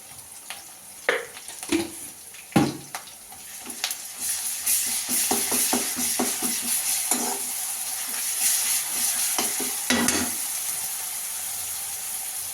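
Green chillies and ginger garlic paste fry in a pan for chicken biryani, with a steady soft sizzle broken by several sharp stirring scrapes and clacks.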